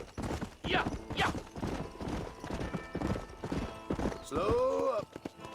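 Horse hooves clip-clop at a gallop in the western video game Red Dead Redemption, loud and close, with a horse whinnying near the end and voices talking over it.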